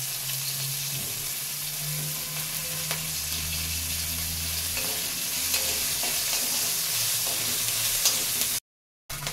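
Nigella seeds and dried chillies sizzling in hot oil in a pan with fried prawns, a steady close crackle with stirring scrapes and a brief gap near the end.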